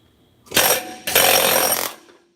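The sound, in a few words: hitting a chisel to pop parts apart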